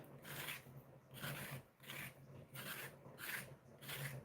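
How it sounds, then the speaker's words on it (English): Scraping the rough, odd-looking patches off a fufu ingredient, heard as about five rhythmic rasping strokes, each roughly half a second long with short pauses between, close and fairly quiet, with a low steady hum underneath. "So I'm scraping it because it's got these, trying to scrape"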